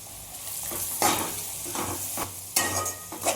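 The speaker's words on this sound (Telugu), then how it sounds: "ఇలా కొంచెం మగ్గాలి ఉల్లిపాయ" Onions and turmeric stir-fried in a pan, sizzling steadily while a utensil scrapes through them in three or four distinct sweeping strokes, close and clear without speech.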